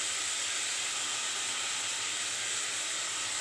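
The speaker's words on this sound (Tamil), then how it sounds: "இங்கே வந்து தக்காளியை இதிலே போட்டுக்கலாம். எல்லாம் ஒன்றா சேர்ந்து நல்லா வதங்கட்டும்." Tomatoes with salt sizzle steadily in a hot pan, a dense, even frying hiss that holds unbroken and fairly loud throughout, with no talking.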